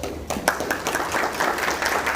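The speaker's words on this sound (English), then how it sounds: "Please give these men and women a round of applause." A room of people applauds a newly formed legislative committee that has just stood up. The clapping is dense and continuous, with a voice speaking over it.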